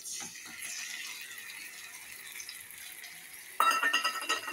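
Spice paste frying with browned onions in a pan makes a soft, steady sizzle and hiss, with a brighter, louder burst of crackling near the end.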